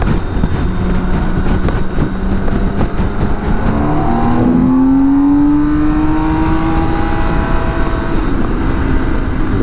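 A motorcycle approaches and passes close by a BMW K1600 GTL touring motorcycle on the road, rising into a clear, loud engine note with a sweeping pitch change over steady wind and road noise.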